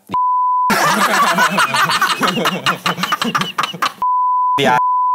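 Long steady censor beep tones at start and end, one interrupting briefly near the end, with a person talking loudly in between.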